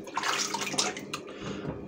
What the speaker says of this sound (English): I like the water out of the sink.